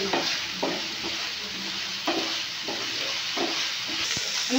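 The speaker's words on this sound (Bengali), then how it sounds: "পেঁয়াজটা আমি ভালো কষিয়ে নেবো।" Onion frying in a pan for chana masala, a constant bright sizzle with periodic spatula stir strokes scraping close by, no talk.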